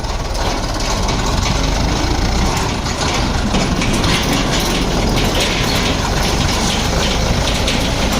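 Loud, unbroken rumble of tractor engines at a sugar mill, with steady mechanical clattering and grinding, close by and continuous throughout.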